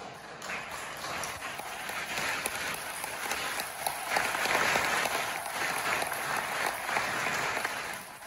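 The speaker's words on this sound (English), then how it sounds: "I think we should give her a round of applause." Sustained audience applause fills the hall after a presentation, dense continuous clapping held at steady volume throughout with no voices over it.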